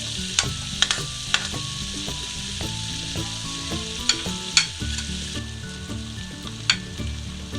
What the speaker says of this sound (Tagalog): Magigisa na po tayo. Ilalagay ko na po yung butter. Ilagay na po natin ang ating bawang.